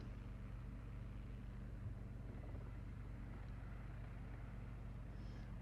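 Steady, close engine and rotor drone of a small helicopter lifting off the ground in the X-Plane 11 flight simulator game, an unbroken rumble with a low pulsing hum that holds level from start to finish, with no talk.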